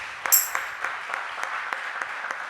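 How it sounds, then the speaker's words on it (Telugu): Congregation clapping during a Baptist church Sunday service, a brief burst of scattered hand claps that settles into a steady, moderately loud rhythm of claps, with a short ringing ping near the start. "చప్పట్లు కొడతాం ఒకసారి."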